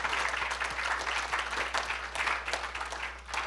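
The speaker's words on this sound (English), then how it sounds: "Would you please join me in a fantastic round of applause for Jerry?" Steady, full applause from a seated audience after a national security talk, many hands clapping densely throughout with a low hum underneath.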